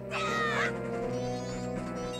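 A large bird cawing in Majora's Mask 3D, one loud harsh call near the start that trails off, followed by steady game music.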